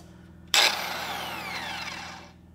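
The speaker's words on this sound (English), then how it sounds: "So the first thing you'll notice when I run the grinder," An angle grinder with a cutoff wheel bites into a steel plow bolt on an Oliver plow, starting abruptly with a loud, harsh screech that holds steady for about two seconds before easing off.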